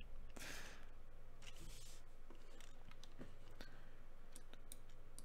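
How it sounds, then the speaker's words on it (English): Clicky computer keyboard typing, faint scattered keystrokes tapping in irregular bursts under a low steady room hum, quiet and close. "the keyboard sounds more clicky than it used"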